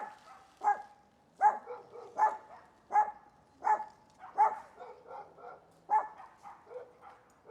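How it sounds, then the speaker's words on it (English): A neighbor's dog barks repeatedly outdoors in a steady rhythm of about a dozen sharp, mid-distance woofs, with other dogs answering faintly in the background. "The neighbor's dog decides to bark while I'm doing a video."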